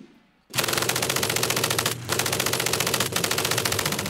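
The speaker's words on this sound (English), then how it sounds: "The MG-42 machine gun." An MG-42 machine gun fires in long, rapid bursts after brief silence, a loud dense rattle broken by two short pauses.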